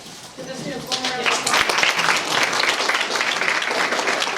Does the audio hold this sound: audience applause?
yes